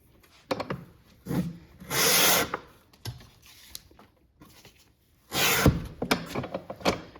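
Rasping, scraping strokes of a Weaver Economy step skiver splitting about an ounce of leather off the back of a piece, coming in several separate bursts with quiet gaps between, close and fairly loud.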